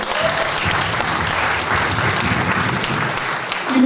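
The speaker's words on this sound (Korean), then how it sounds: "박수 한번 드리겠습니다." Sustained applause from a church audience at a founders' gathering for a Jinju Australian mission history hall, a dense steady wash of clapping throughout with no talk.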